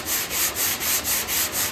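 A sanding block is pushed back and forth across the metal tailgate of a Chevrolet C10 pickup during bodywork, giving about seven even, rhythmic rasping strokes, loud and close, with no voices.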